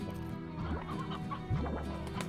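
Chickens cluck in the ranching game Slime Rancher, a series of short choppy clucks and squawks with a louder burst midway, near and clear with no speech over them.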